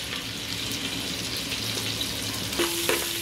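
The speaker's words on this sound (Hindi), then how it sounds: "अदरक लहसुन को मैं ऑयल और बटर में भून लूंगी।" Ginger and garlic fry in oil and butter in a pan, a dense, continuous sizzle that fills the scene, with a few faint clinks near the end and no one speaking.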